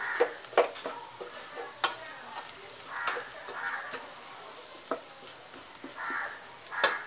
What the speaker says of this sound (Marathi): आधी बटाटे टाकूया ती चांगले मिक्स करून घ्यायची बटाट्यांना छान मसाला लागला पाहिजे